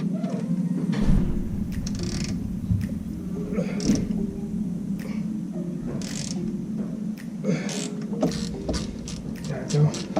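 Ratcheting and creaking metal from a wrench working bolts loose on a Jeep, with clicks and clanks scattered over a steady low hum; a person can be heard faintly in the background.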